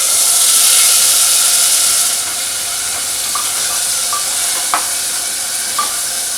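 Chopped medium tomatoes go into a hot pan for parwal sabzi, bringing a loud steady sizzle and hiss that fades after a couple of seconds into quieter frying with a few light clicks of stirring.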